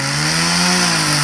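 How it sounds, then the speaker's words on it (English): Chainsaws cutting down pine trees behind a workshop drone steadily and loudly in the background, a continuous buzzing engine whine with a strong low hum and no pauses. "if you can hear some chainsaw noises in the background, it's because I've got some guys cutting down pine trees here"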